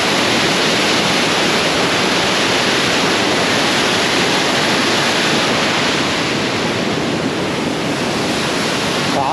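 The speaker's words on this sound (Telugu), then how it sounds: "పైకి చూడండి వాటర్." Water cascades from above beside the mountain trail to Kedarnath, a loud, dense and unbroken roar of falling water with no talk over it.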